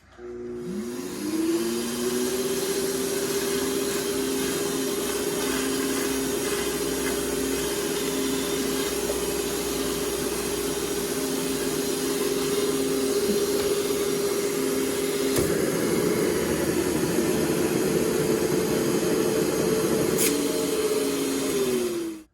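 A shop vacuum fitted with a Milwaukee Air Tip flexible vinyl micro hose runs in a steady, loud whine that spins up, holds for about twenty seconds with a brief change in pitch, and then winds down, with nobody talking.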